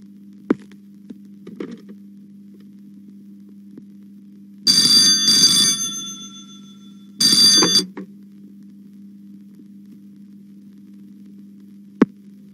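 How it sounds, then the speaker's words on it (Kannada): A telephone rings in two bursts of bell tone over a steady low electrical hum, with a few faint clicks before and after. "ಫೋನು"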